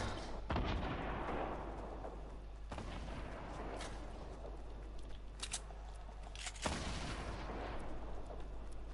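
A grenade launcher fires in a video game, letting out three heavy booming thumps spread across several seconds over a rumbling, noisy backdrop, all fairly faint overall.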